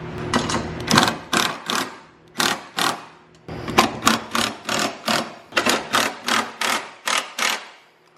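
Ratcheting wrench tightening coilover mounts on a Toyota JZX90, a close, loud run of rapid clicking bursts in repeated rhythmic strokes with short pauses between, no talking over it.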